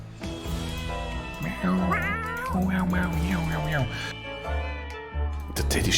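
A cat meowing in the survival game 60 Seconds, several drawn-out wavering meows in close succession, loud and near, with music or other game sounds underneath.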